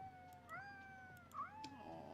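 Cat meowing in a video game: two drawn-out, wavering meows, fairly close and clear, with faint background hum.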